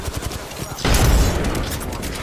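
Video game gunfire breaks in as a sudden heavy burst midway, after a stretch of quieter game sounds, and rumbles on loudly to the end.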